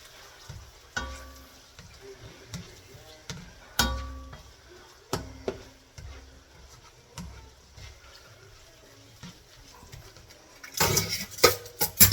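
A utensil stirs a hamburger and macaroni mixture in a pan, making irregular clinks and scraping knocks against the metal. The clatter grows busier and louder in the final seconds.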